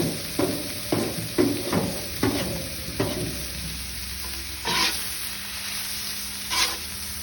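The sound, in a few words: stirring food frying in a solar kitchen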